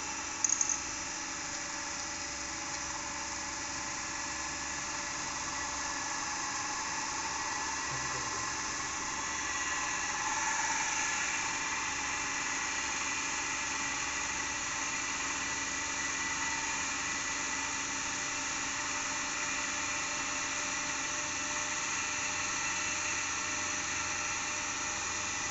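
A DC shunt motor on a lab test bench runs up toward its 1500 rpm rated speed with a continuous, even electrical whine and hum that holds steady throughout.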